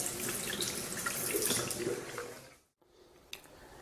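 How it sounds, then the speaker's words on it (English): Water from a collection tank runs out of a tap in a steady broadband gush, stopping briefly near the end before a quieter trickle resumes. "The collected water in the tank flows down the tap."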